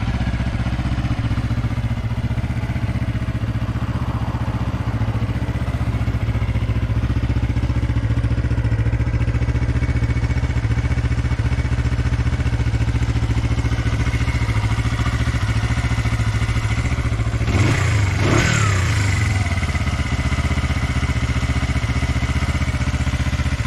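A Honda CB125 twin-cylinder motorcycle engine runs steadily at idle around 1800–1900 rpm, close and loud, with a brief rise in revs partway through before settling back.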